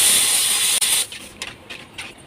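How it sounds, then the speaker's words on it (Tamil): Tiffin sambar with dal simmering and boiling in a pot on the stove, a loud steady bubbling hiss that stops abruptly and gives way to softer, intermittent sputters and pops. "இது வந்து ஒரு 10-15 மினிட்ஸ் கொஞ்சம் நல்லா கொதிக்கட்டுங்க."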